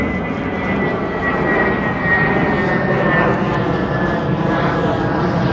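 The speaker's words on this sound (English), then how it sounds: "So, Laki, I'm going to let this plane pass by." A propeller airplane drones steadily overhead the whole time, a loud broadband engine rumble with a faint whine, continuous and unbroken.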